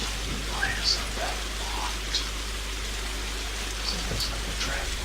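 Steady rain falls as a constant hiss, with a low hum and faint scattered sounds over it, heard indoors from near an open door.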